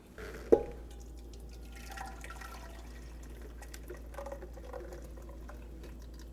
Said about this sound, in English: I'm going to pour the first batch into my stock pot.